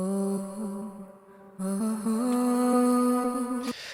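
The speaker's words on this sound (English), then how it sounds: "I found this cool vocal from Splice. It sounds like this." Sampled vocal line meant for melodic techno vocal chops, a single voice holding sustained sung tones that shift pitch partway through, fairly quiet and alone.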